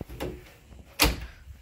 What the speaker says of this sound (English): Just needed to close my door.